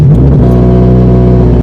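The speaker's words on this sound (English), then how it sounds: "I actually have to start my car to show you guys" Scion FR-S / Subaru BRZ engine turning over and settling into a loud, steady idle hum close by.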